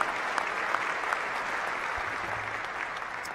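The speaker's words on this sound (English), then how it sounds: "That deserves a round of applause." At a university gathering celebrating a record fundraising campaign, a crowd breaks into steady, even clapping from many hands that continues for the whole stretch at moderate loudness, with no voices.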